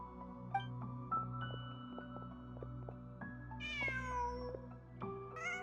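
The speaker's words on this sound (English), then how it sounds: "Huh. Just a cat." In a video game scene, a cat meows several times with clear, rising and falling calls over a quiet ambient musical backdrop, with no one speaking.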